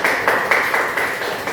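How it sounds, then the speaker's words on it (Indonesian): A classroom group claps hands together in a quick, evenly spaced burst of about seven loud claps, close and with no talking. "Oke, tepuk tangan, tepuk tangan."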